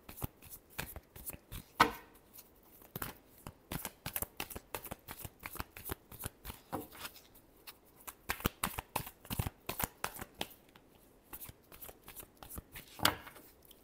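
Tarot cards are shuffled by hand in quick, soft riffling bursts and crisp flicks, close and quiet, repeating in irregular clusters over fourteen seconds with no talk.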